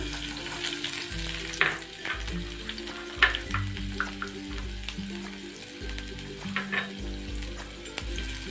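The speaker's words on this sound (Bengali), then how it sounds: "এই তেলটা গরম হলে আমি পেঁয়াজটা দেব" Onion frying in a little hot oil hisses in a continuous sizzle, with occasional spatula scrapes and stirring clunks over a low background hum.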